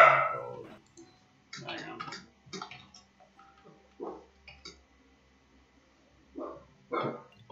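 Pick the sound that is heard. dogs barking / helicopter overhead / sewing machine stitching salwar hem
dogs barking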